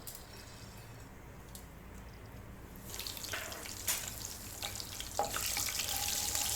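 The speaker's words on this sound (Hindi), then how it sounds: "हल्का सा इसको फ्राई करा चंद सेकंड के लिए।" Fresh curry leaves and green cardamom frying briefly in oil for a handi kabab gravy, a soft sizzle that grows louder after a few seconds, with sharp crackles and spits standing out.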